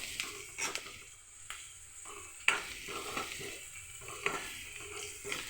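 Onions, green chillies and turmeric frying in oil in a pan, a faint hiss with occasional spatula scrapes and light knocks, quiet and close with no talk.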